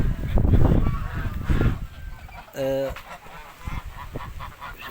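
A goose honks in a short, stacked burst of calls partway through, following a stretch of close talking and handling noise.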